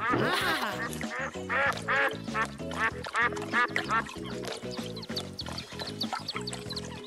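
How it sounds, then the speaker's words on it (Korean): Ducks quack steadily in a busy, overlapping chorus, close and fairly loud, with a high bird-like cry at the start. "병아리 한 마리가 오리들과 놀고 있어요."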